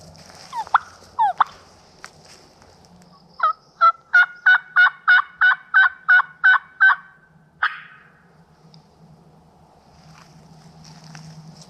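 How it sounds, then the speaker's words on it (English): A wild turkey gobbler in North Carolina gobbles in the open distance, two short calls followed by a long rapid rattling series of about nine pulses and a final note, with faint wind and no talk. "Turkey just gobbled way over there."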